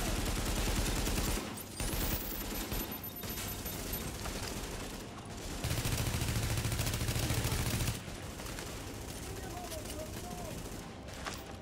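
Gunfire in the video game Tom Clancy's The Division during a subway morgue mission, with dense bursts of automatic fire and heavy shots filling the scene under ongoing combat noise, with brief gaps between volleys.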